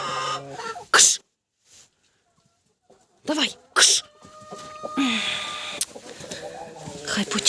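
Chickens cluck and a rooster calls in short bursts, with quiet gaps between them and some voice-like sounds mixed in.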